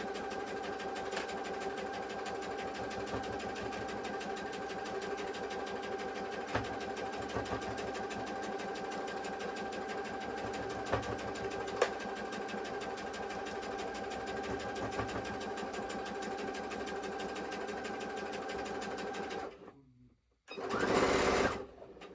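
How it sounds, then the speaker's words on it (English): A sewing machine stitches a quilt block with a back stitch, running in a steady, even whir close to the listener for about twenty seconds, then pausing briefly before a short final burst. "let me sew this one. We're going to back stitch here, just to make sure that edge is closed."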